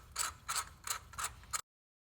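A ratchet wrench removes a spark plug from a 2017-2022 Honda CR-V engine, giving five quick, close bursts of clicking at an even rhythm before it falls silent.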